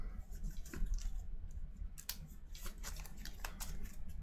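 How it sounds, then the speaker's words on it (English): A deck of DC deck-building game cards being shuffled, giving a soft, continuous papery riffle and clicking that runs steadily through the whole stretch at low level, with no talk over it. "Shuffle everything up."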